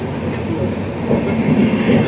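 Vivek Express train of Indian Railways running, a steady near rumble of wheels and carriage noise with faint clickety-clack throughout, heard alone.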